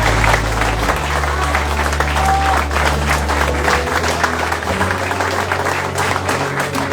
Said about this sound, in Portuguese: Dá um aplauso bem forte, Senhor.